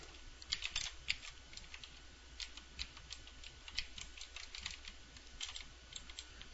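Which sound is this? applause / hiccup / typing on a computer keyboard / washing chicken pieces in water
typing on a computer keyboard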